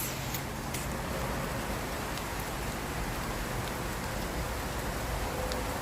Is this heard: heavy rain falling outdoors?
yes